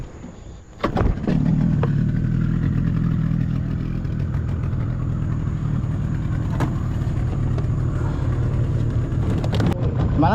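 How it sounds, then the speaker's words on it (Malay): A small vehicle engine, likely a motorcycle, starts with a clatter and settles into a steady, loud idle as it warms up, running continuously close by. "panaskan enjin kejap."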